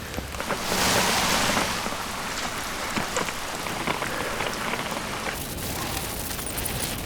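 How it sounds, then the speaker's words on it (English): Steady rain pours down in a dense, continuous hiss, with a louder rushing gust near the start and no voices. "It's been raining all night."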